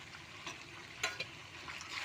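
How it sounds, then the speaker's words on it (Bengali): Fried potatoes and browned chicken stirred in a pan of fried onions, a quiet continuous sizzle with soft scraping of the spatula and one brief sharper clink. "আলু একটু নাড়াচাড়া করে নিয়েছি,"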